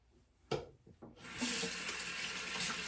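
A running bathroom sink tap used to rinse a face after an at-home chemical peel. A few soft knocks come first, then a loud, steady rush of water that continues to the end.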